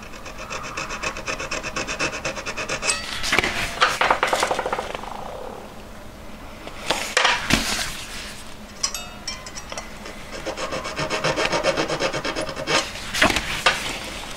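Hand file rasping against the metal claw of a gemstone setting, a jeweller trimming metal so the claw fits over the stone; close, dry scraping strokes in irregular bursts, fairly quiet, with no talking.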